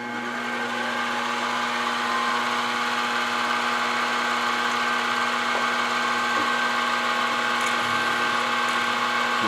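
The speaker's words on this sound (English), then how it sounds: "The drill tends to start to wander if I'm not careful" A drill runs steadily while boring holes in metal on a workshop machine, a constant, moderately quiet motorized whine with a few faint ticks and scrapes, no speech.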